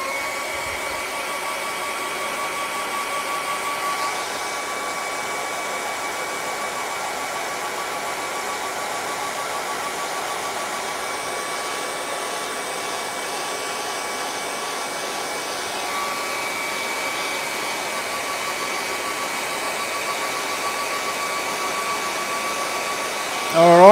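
A hair dryer blows a steady, loud whoosh over a wet acrylic swamp painting during a live painting session, running continuously for the whole stretch with no break.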